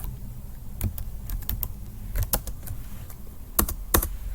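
Computer keyboard being typed on to enter an interface name in resource-model design software, irregular close clicks and clacks in short bursts with brief pauses, no talking.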